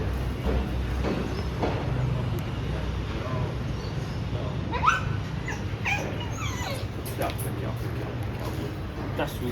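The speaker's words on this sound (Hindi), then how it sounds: "क्या हो गया पपी को?" A rescued puppy of about six to eight months whimpers and yips softly outdoors, thin high cries scattered over a noisy background while people talk nearby.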